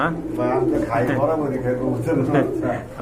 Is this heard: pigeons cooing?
yes